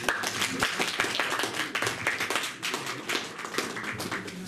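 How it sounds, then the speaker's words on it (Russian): Concert audience at a song-club performance clapping briskly and continuously, close and dense, with individual claps standing out in the steady applause. "Ваши аплодисменты."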